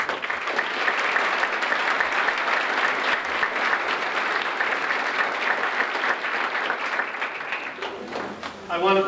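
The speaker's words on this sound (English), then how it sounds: "Please join me in a round of applause in appreciation of these campus." Steady, full audience applause at an academic recognition ceremony honoring award donors, a dense sustained clapping that fills the room for several seconds before tapering off as a voice begins to speak.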